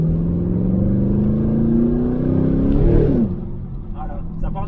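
Chevrolet Camaro Transformers Edition with an exhaust bypass, its engine note climbing in a steady loud rev before easing off abruptly with a faint crackle.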